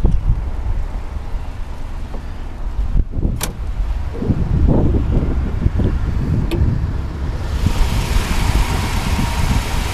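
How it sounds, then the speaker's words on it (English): A 1964 Crown Imperial's engine idles steadily, rumbling low and close, with a couple of sharp clicks and a rush of wind-like hiss toward the end. "You can hear it. Engine just runs beautiful."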